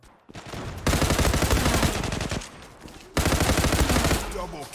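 Rapid automatic gunfire in the online shooter Zula, two long dense bursts of loud, fast shots with a brief lull between them.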